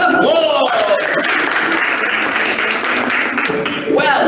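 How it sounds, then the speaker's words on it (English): An audience at a school welcome evening breaks into loud, sustained applause that fills the whole moment, with dense clapping close by and voices mixed in. "give them a round of applause."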